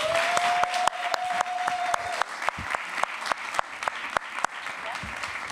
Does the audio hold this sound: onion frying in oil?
no